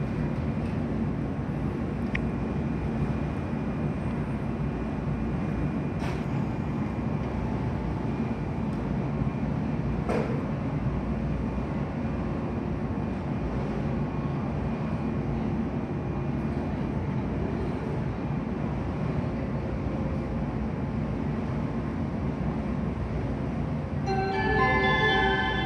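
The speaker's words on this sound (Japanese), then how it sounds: "はい、中津行きに普通列車が発車するみたいです。" JR 415 series local train for Nakatsu pulling out of Oita Station, a steady broad rumble of traction motors and wheels filling the platform, continuous and fairly close, with a brief chime near the end.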